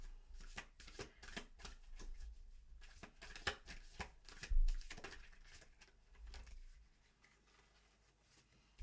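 Tarot cards being shuffled for a reading, with a steady run of quick riffling and papery slaps close by, one firmer thump near the middle, then the shuffling thins out toward the end. No voices.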